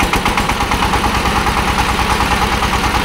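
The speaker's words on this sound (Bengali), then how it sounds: "ইঞ্জিনের কন্ডিশন খুবই ভালো, সাউন্ড দেখতেছেন নতুন ইঞ্জিনের মতন টনটনা সাউন্ড।" An engine on a machine that is up for sale along with its driver idles close up, producing a loud, steady, even chugging rumble that runs unbroken throughout, with no talk.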